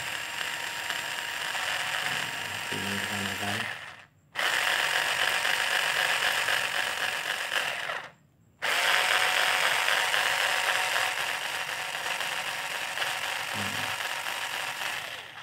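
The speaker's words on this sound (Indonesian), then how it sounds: "Berarti ini gerigi yang di dalam itu berfungsi ya Seperti ini ya" Homemade RC truck differential built from angle grinder gears, turning with a loud continuous whirring, ratcheting gear noise that stops briefly twice, then runs on steadily.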